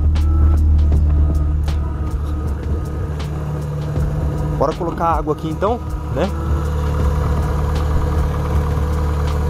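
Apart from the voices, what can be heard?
car engine running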